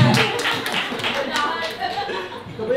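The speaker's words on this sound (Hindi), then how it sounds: "तालियों की सुनसनाहट है" Group clapping at a family mehndi gathering, a quick uneven patter of hands mixed with chuckles and voices talking over it.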